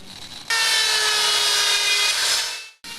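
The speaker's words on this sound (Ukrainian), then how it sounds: "Працюють бензопилами." Chainsaws carving wooden sculptures from logs at an international wood sculpture festival, a loud steady whining buzz that starts abruptly, holds for about two seconds, fades, then cuts back in.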